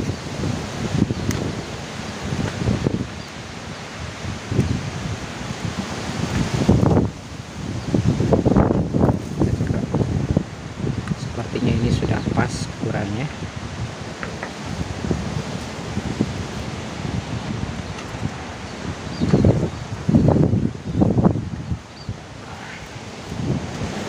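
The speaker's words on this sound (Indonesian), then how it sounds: "Berisik suara angin ya kawan di sini." Steady outdoor wind rumble buffets the microphone throughout, with gusts rising and falling and faint rustling.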